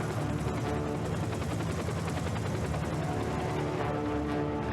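Helicopter cannon fire in Captain America: Super Soldier: a steady, dense roar of rapid automatic shots under a droning engine-like hum, loud and continuous throughout.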